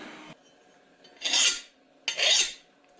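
Steel file rasping against a wooden spear shaft in two separate strokes, each a dull, gritty scrape about half a second long, heard close with no talking.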